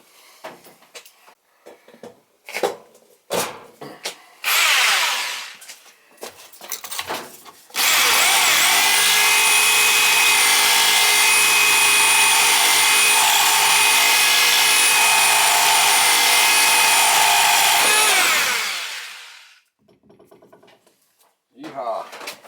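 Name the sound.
Sawzall reciprocating saw cutting cast iron pipe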